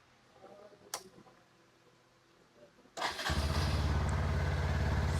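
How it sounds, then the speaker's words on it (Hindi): Bajaj Pulsar NS125 motorcycle cranks and fires up after a faint click and some quiet handling noise, then settles into a loud, steady close-up idle that continues to the end. "पहले NS125 को स्टार्ट करते हैं।"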